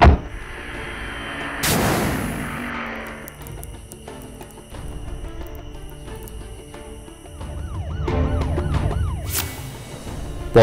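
A police car siren wails amid a cartoonish, effects-laden scene, its rising and falling tone sweeping near the end between loud bangs and crashes.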